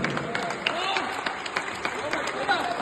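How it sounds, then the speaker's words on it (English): Applause at a badminton team tournament prize ceremony in Panaji: a crowd claps steadily with scattered sharp hand claps and murmuring voices, while a person speaks over it. "Friends, please give them a thunderous applause."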